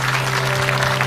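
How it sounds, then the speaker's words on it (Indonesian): A brief burst of audience clapping at an Islamic lecture gathering, steady and moderately loud over a constant electrical hum. "tepuk tangan lu dong Bu."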